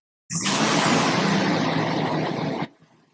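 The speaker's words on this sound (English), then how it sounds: "It's a car just leaving." A car starts up loudly nearby and drives away, a sudden broad rushing engine roar that holds steady for a couple of seconds and then cuts off abruptly into near quiet.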